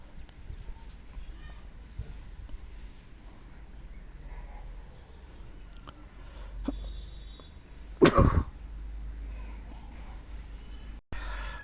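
A single sharp cough bursts out loudly near the microphone over a quiet background, followed by a brief pause before a voice resumes.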